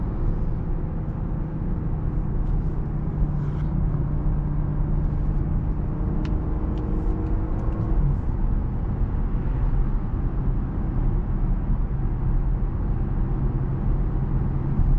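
Inside a supercharged Audi on an early morning drive, a constant low engine and road rumble fills the cabin, loud and even throughout, with no talking.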